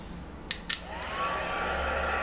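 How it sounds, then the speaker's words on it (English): A crafter's heat gun whirs up after two soft clicks, blowing a steady rising airy hiss close by while heat-setting a fabric flower. "Remember to use a crafter's heat gun, as only that will be helpful"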